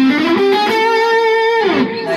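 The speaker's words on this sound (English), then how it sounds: "I can record with this much distortion and then take it off on the plug-in end." An electric guitar played through a pedal board and amp with heavy distortion: a loud, sustained, harmonically rich distorted note that holds steady, then bends downward near the end, with no talking.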